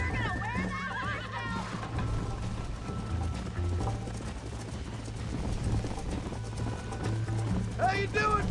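Hooves clip-clop steadily as a horse gallops in Red Dead Redemption, with whinnying neighs near the start and end, all under a continuous bed of game music and ambience.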